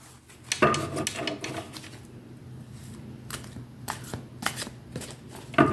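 A deck of tarot cards being shuffled in quick riffling bursts with short pauses between them, close up and with no talking.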